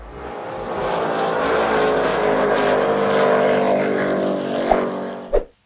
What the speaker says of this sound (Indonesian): di balik baling-balingnya ada mesin yang siap sedia buat meluncurkan benda ini hingga kecepatan maksimal 182